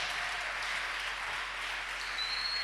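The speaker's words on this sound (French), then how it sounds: "Est-ce qu'on peut mettre nos mains ensemble, les honorer encore, les applaudir davantage?" Applause from a church congregation during a worship service, a steady wash of clapping hands that holds evenly throughout at moderate distance.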